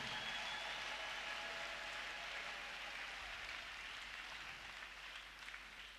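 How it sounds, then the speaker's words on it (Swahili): Congregation applauding at an EAGT church gathering after a call to clap for the Lord, a dense, steady wash of clapping that holds throughout and fades slightly toward the end. "Tumpigie Bwana makofi kutuwezesha"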